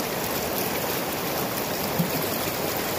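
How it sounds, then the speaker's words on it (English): Rough river water rushing along a creek, a dense, steady broadband roar with no pauses, heard close and without any voices. "Water's a little rough today."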